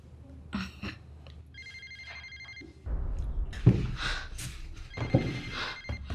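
A telephone rings indoors in a domestic drama scene, repeated electronic ring bursts sounding clearly at mid level, while people talk and move around nearby.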